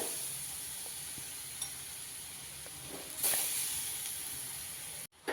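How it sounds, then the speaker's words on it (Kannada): Grated carrot frying in ghee for carrot halwa, a continuous soft sizzle and hiss close by, with a brief louder burst of spattering midway before a short cut. "ಕ್ಯಾರೆಟ್ನ ತುಪ್ಪದಲ್ಲಿ ಚೆನ್ನಾಗಿ ಫ್ರೈ ಮಾಡಬೇಕು."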